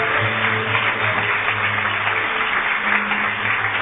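A church congregation applauds during a service, a dense continuous wash of clapping sounding muffled and band-limited, with a low droning tone underneath.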